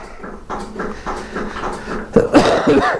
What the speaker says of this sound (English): Have a cough at the same time.